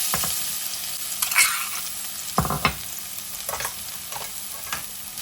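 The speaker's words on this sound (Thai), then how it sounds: "ใส่พริกกับกระเทียมลงไปผัดจ้ะ" Chili and garlic stir-frying in a little oil for a Thai spicy chicken and bamboo shoot stir-fry, a steady close sizzle broken by several sharp scraping strokes of a spatula against the pan, with no talking.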